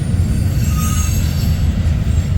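A freight train on the Council Bluffs Mo Valley subdivision rolls past close by with a heavy continuous rumble of railcars, while a thin high squeal of wheels rises above the roar.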